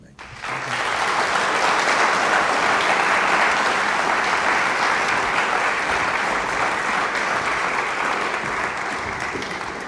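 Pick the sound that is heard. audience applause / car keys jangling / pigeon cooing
audience applause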